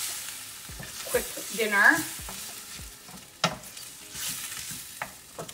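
Sloppy joe meat mixture with ketchup cooks and gets stirred in a pan, soft sizzling and scraping strokes recurring near and moderately loud, with a brief spoken line over it.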